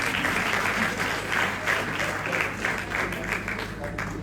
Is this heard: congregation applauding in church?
yes